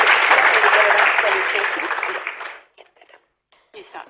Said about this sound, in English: Come on, we can do better than that. A big round of applause.